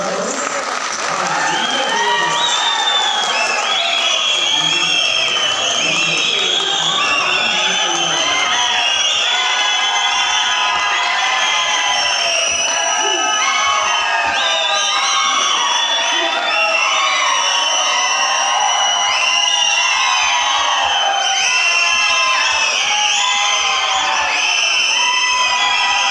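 A large audience at a folk dance performance event bursts into sustained applause mixed with cheering, whoops and shouting children, loud and dense throughout, with voices mingled into the crowd noise.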